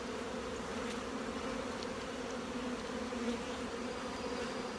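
A dense, steady hum of many honey bees buzzing inside an open hive box during a spring inspection and mite treatment, continuous and fairly faint with no voices.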